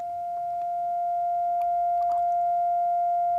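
Studiologic Sledge synthesizer holding a single steady tone with its filter envelope shaping the note, clean and fairly quiet, with a few faint clicks from the controls.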